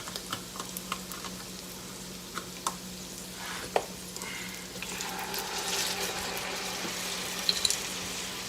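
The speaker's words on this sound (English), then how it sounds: "So we're going to add just a little bit of broth." Broth poured into a hot pot to deglaze it, giving a soft hiss and sizzle with stirring and scraping scattered throughout, moderately close and fairly quiet, no talking.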